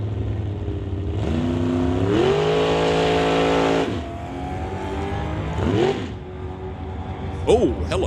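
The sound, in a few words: Brad Owens' Bel Air drag race car backing up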